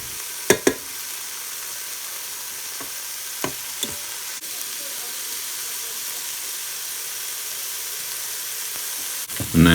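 Field mushrooms and crushed garlic sizzle steadily in a Ninja Foodi pot, a constant frying hiss broken by a few sharp utensil knocks early on and a louder clatter at the very end.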